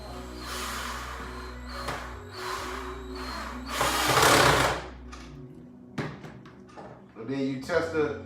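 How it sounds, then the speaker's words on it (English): A power drill drives a fastener into the frame of a homemade travel case, whirring in several short bursts with brief pauses between them, close and fairly loud. "when you actually go to screw in the fastener"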